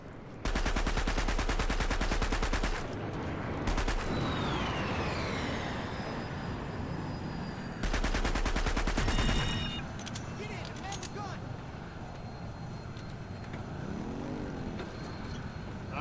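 Rapid automatic weapon fire from the Planetside 2 video game, two long sustained bursts of dense repeated shots with brief gaps, loud and close, followed by a quieter stretch of game ambience and whooshing effects.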